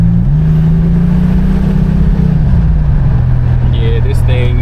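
A 1987 Buick Grand National turbo engine pulling steadily as the car drives, a loud close drone whose pitch rises and then eases, heard from inside the cabin under a voice.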